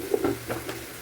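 Vegetarian ghugni with coconut and a little sugar being stirred in a pan: a few soft, quick scrapes and shuffles of the spatula over a faint sizzle, close by.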